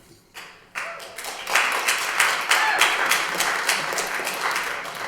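Audience clapping fills a city council meeting room in Lowell, starting as a few scattered claps and swelling into steady, close applause that carries on to the end, with no talking over it.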